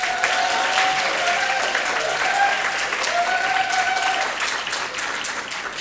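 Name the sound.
audience applause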